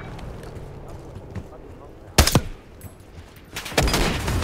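Gunfire rattles at low level before a vehicle blows up in Call of Duty: Black Ops 6, with a sharp near explosion burst, a follow-up crack, then a second loud, sustained blast with rumbling debris.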